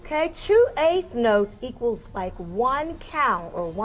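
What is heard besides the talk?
No everyday noises stand out.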